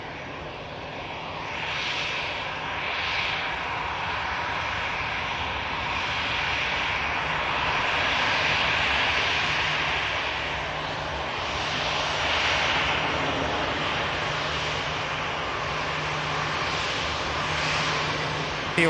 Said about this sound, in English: Definitely looks like this aircraft's heading back to stand.